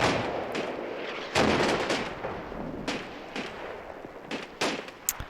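Gunfire and a stick grenade blast in the Combat Mission World War II strategy game: several sharp, loud reports and booms at irregular intervals with lighter rattling shots between them.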